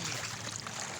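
Strong river current rushes steadily and close, a dense broadband wash of flowing water with faint gurgles and no voices.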